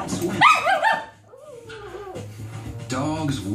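Dogs barking from a television programme about breeds such as the Labrador Retriever, Chihuahua, Poodle and Airedale, with yips, whimpers and barks in short bursts, mixed with background noise and some voice-like sounds.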